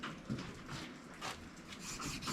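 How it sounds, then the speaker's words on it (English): A Solingen Bear Hunter knife blade drawn across a leather strop, a steady close-up rubbing rasp repeated in a few soft strokes, with no talking. "let's get the leather strop out and strop it right quick"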